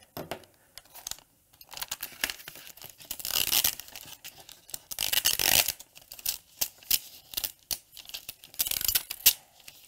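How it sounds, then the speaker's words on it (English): Infusible Ink transfer sheet peeled from its backing while customizing a tote bag with a Cricut, a close, crackly tearing and crinkling that comes in bursts, with longer continuous peels in the middle and short rips toward the end. "I feel like I could be on one of those ASMR videos just peeling Infusible ink all day."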